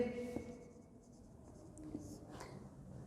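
Pen writing out a question, soft faint scratchy strokes in short bursts, quiet and close in a room with low background noise.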